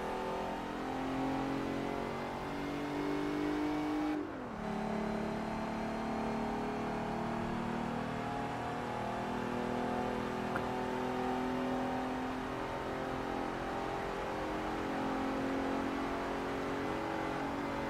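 D-class car engines race around the Le Mans circuit in Forza Motorsport 3, a continuous loud engine drone that dips briefly at a gear shift and then climbs again.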